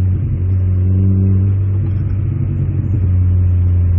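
A street car with a loud aftermarket exhaust idles and revs, heard close up as a deep, steady rumble with slight swells, no talking over it.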